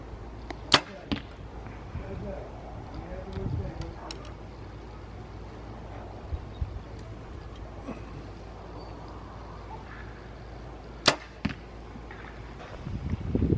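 Arrows shot from a bow at 30 yards outdoors, heard as a couple of sharp, sudden impact snaps well apart over low wind rumble and quiet background.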